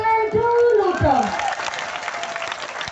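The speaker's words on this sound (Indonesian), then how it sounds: "Tepuk tangan dulu dong." A crowd at a large Islamic religious gathering in Penarik, Mukomuko breaks into brief applause right after someone speaking over a microphone. The clapping swells, then thins out over a couple of seconds.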